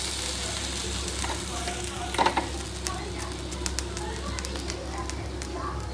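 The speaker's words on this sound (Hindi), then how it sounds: "छोंक लगा रही हूँ।" Spices sizzling as they hit hot oil for a chhaunk tempering, a steady close frying hiss with brief crackling bursts, while a voice talks over it in a home kitchen.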